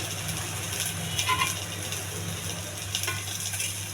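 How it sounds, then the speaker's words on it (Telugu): Onion, garlic, curry leaves, cumin, dried red chillies and urad dal fry in hot oil as a tempering, giving a soft, steady sizzle with faint stirring scrapes over a low background hum. "తాలింపు బాగా వేగిందండి,"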